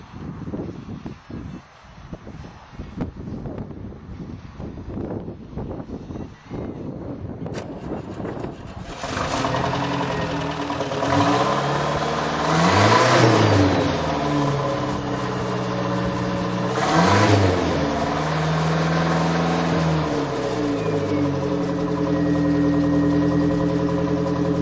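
Turbocharged Dodge Aries engine with no muffler or catalytic converter, exhaust piped out beneath the rear seat, starting up and revving loudly and close by in two strong surges over a rough, steady idle, with no talk.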